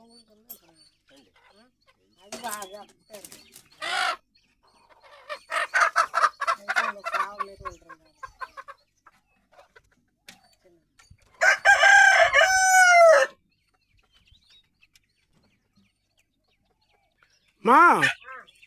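Village country chickens squawk and cluck in short bursts with one loud crowing call and flapping, close by, while people talk and call out between the bird sounds.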